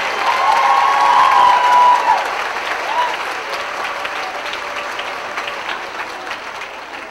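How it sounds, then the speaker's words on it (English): Audience at a university commencement ceremony applauds loudly and steadily, the clapping strongest at first and then thinning slightly, with no other voices. "Rudy J. Salinas, let's give a round of applause for the future leaders of public sector and not-for-profit organizations."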